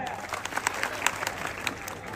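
Quick scattered clapping from a crowd at a traditional kushti wrestling bout in Maharashtra, fairly faint and sustained, with a voice talking over it.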